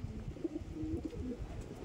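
Pigeons belonging to an old pigeon keeper coo softly in low, rolling phrases, faint and steady against a quiet background.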